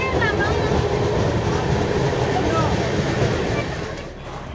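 Inside a moving train, a constant loud rumble of rolling wheels fills the carriage with faint rhythmic clatter, easing slightly at the very end.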